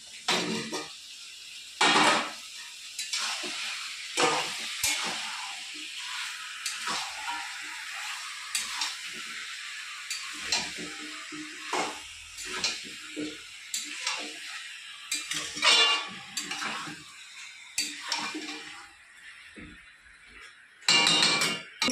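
Chicken and potato pieces are stir-fried with spices in a pan, with a steady hiss and sizzle broken by repeated ticking scrapes and knocks of a spatula.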